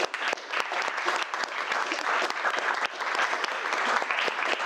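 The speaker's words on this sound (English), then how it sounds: "can we give them a round of applause?" Room applause after a panel session on digital transformation, with individual claps clearly separable in a moderate, steady patter from a modest-sized audience.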